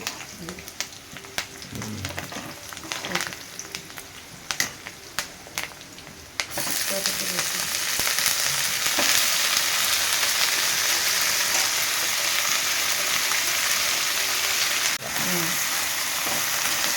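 Amaranth leaves and onions frying in oil in a pan, a quiet crackle with occasional stirring at first, then a louder, dense, continuous hiss of sizzling from about six seconds on.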